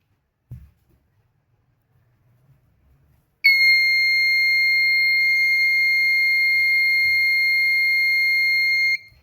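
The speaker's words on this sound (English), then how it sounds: "So as soon as it detects smoke, it will turn on the buzzer." A DIY plug-and-play smoke alarm kit's buzzer starts abruptly and holds one loud, steady high-pitched tone for several seconds after a brief quiet lead-in, with no other sound over it.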